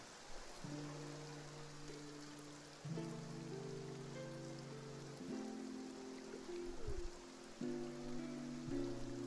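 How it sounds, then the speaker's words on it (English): Steady rain falls in the Genshin Impact region of Fontaine, a constant hiss of drops on surfaces beneath a sustained musical tone that shifts chords. "Looks like rain."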